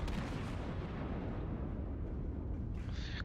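Battleship Fuso firing its main guns in a naval video game: one deep, booming blast that rolls into a long, low rumble, heavy and close, with a faint high ping near the end.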